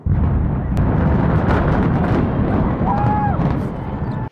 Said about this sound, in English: you have a massive explosion